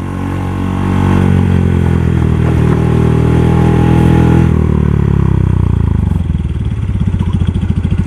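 A motorcycle engine runs close by near a footbridge, a loud steady drone that rises slightly, then settles into a rough, pulsing idle toward the end.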